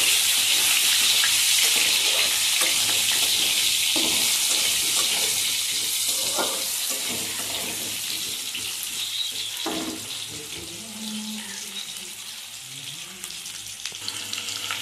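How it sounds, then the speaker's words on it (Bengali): Sliced green bananas fry in hot oil in a home kitchen, making a loud, continuous hissing sizzle that eases slightly toward the end, with occasional small pops. "কাঁচকলাগুলোকে আমি এইভাবে ভেজে নেব।"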